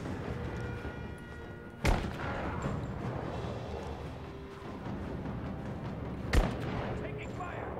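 Gunfire in the video game Rise of the Tomb Raider: two sharp, loud shots spaced several seconds apart over a rumbling game soundscape, with a voice talking in between.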